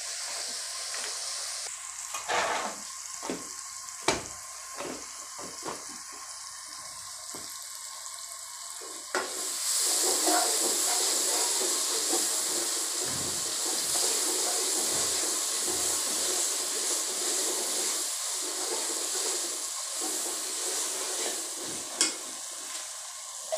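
Masala sizzles and fries in a pan for Indian aloo baingan sabzi, a steady hiss with occasional crackles and spoon-stirring clinks that grows louder and denser partway through.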